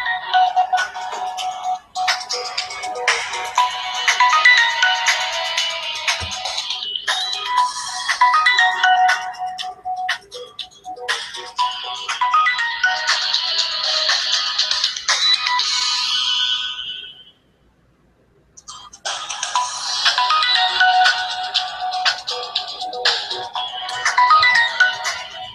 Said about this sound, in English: my phone is ringing, but it won't let me answer it for some reason